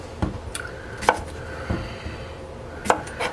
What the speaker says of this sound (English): Basically what we're going to do is cut the ends off